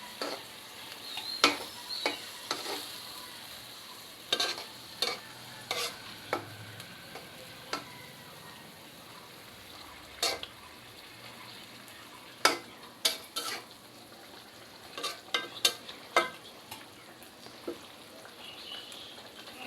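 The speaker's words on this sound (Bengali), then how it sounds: "এখন আমি ভালোভাবে এগুলো নেড়ে চেড়ে নেব।" Pointed gourd coated in mustard and poppy seed paste is stirred in a pan, giving a soft steady sizzle broken by scattered sharp scrapes and clicks of the spoon, close and fairly quiet with no talking.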